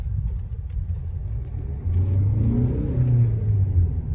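A Hyundai Creta SX diesel automatic rolls over a speed breaker, its engine a low, steady rumble inside the cabin that swells louder partway through, with no talking.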